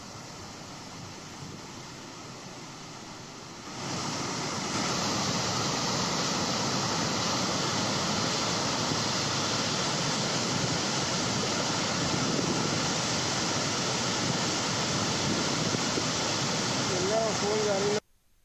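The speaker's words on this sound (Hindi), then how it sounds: "वहाँ तक पानी का ज़बरदस्त बहाव देखा जा रहा है" Floodwater from heavy rain surges through the Musi river in Hyderabad, making a steady, loud, unbroken roar that swells after a few seconds and holds constant.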